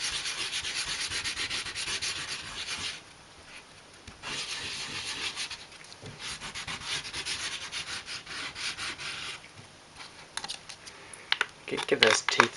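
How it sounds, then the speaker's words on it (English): Wax is rubbed onto the other side of a gear in steady, close scraping strokes broken by brief pauses, ending in a few sharper knocks. "And then flip it over and wax the other side."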